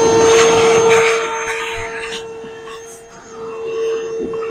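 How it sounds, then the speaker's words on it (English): A shop vacuum cleaning debris out of the belt housing of a Polaris Sportsman 550 ATV, a loud steady whine with a sharp tonal hum, its pitch and airflow shifting as the nozzle moves around inside the housing. "We'll just come in here and vacuum it out."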